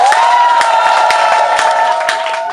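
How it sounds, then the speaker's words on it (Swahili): A crowd at a public meeting in Tanzania applauds and cheers, loud and close, with a steady roar of claps, sharp individual hits and voices mixed in, tapering slightly at the end. "Tupige makofi kwa ajili ya hilo."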